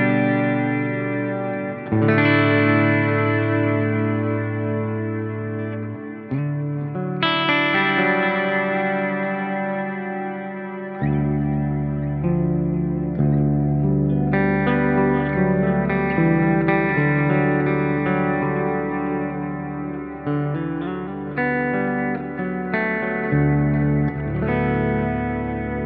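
A Dean Gordon Virtus-6 electric guitar on its bridge pickup plays clean, ringing chords and notes one after another, each sustained and overlapping with a shimmering chorus and echo tail.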